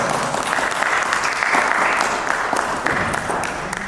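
An audience at a world peace delegation event applauds to welcome the president of the Chicago Marathi Mandal: dense, loud, continuous clapping from a large crowd that holds steady for the whole stretch.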